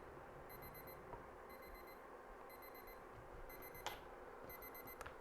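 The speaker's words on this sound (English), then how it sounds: "Beep, beep, beep, beep, it says." A kitchen appliance timer, on a blender or food processor used to mix mash for baked portobellos, sounds a faint series of four quick high beeps repeating about once per second over a steady room hiss.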